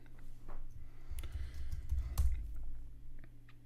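Keystrokes tapping out a command on a computer keyboard, a scattering of soft clicks at an uneven pace over a low background hum, close and fairly quiet, with no voices.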